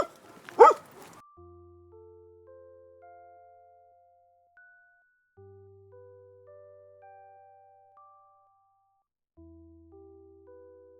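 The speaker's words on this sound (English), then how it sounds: "Dog says woof." A dog barks a couple of times close up at the start, a brief loud burst over a cheerful children's tune that continues alone afterward, part of a farm animal counting song for toddlers.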